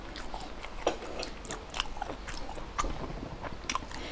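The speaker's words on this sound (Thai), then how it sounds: "ถ้าเคี้ยวอีกทางมันจะเหนียวเป็นเส้นๆอร่อย" Someone chews a tough, stringy shellfish adductor muscle close to the mic, giving repeated wet bites and crunchy mastication sounds in an irregular rhythm over a quiet room background.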